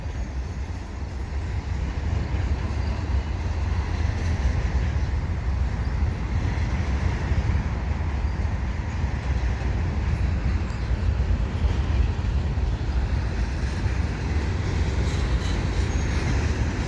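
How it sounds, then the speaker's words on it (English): A long eastbound mixed-freight container train hauled by a single SD70ACU locomotive rolls steadily past close by at Dorval, a continuous heavy rumble of wheels and cars with faint squeals and no break in the noise. "bringing in the eastbound container train"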